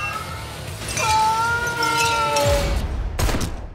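A pack of monster cats in a horror-comedy film trailer meows and yowls in drawn-out, wavering cries, loud and close, overlapping against a noisy background with a sharp burst near the end.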